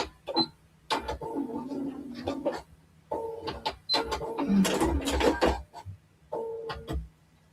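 Home sewing machine stitching a stacked Dresden quilt block, running in several short bursts of rapid mechanical chatter with brief pauses between them, close and fairly loud.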